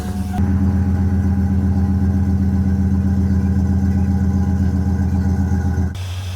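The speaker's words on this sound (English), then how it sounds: "Just letting the truck warm up right now before I leave." A truck engine idles steadily at close range while warming up, giving a constant low rumble with no revving before it drops off near the end.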